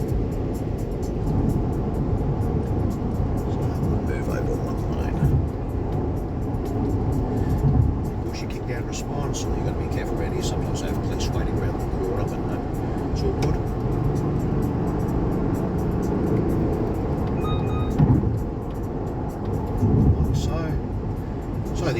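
A Mazda CX-60 with a 3.3 litre turbo diesel under way, heard as a steady low cabin rumble of engine and road noise under a talking voice; no distinct kick-down surge stands out.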